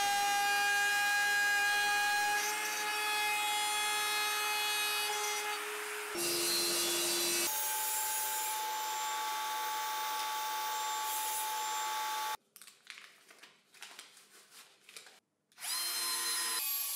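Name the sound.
router cutting holes and grooves in wood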